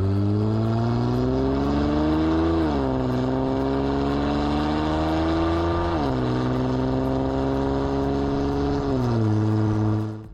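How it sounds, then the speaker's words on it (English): Nissan VR engine in an all-wheel-drive car, a loud steady drone that climbs in pitch through repeated revving pulls, with short dips between them and no talking. "Not everybody's gonna love the engine note."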